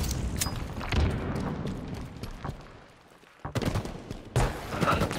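Gunfire rings out in a tactical shooter video game, with loud bursts of rapid shots and booms, a brief lull, then more volleys. There is no talk over the shots.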